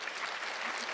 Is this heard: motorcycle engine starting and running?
no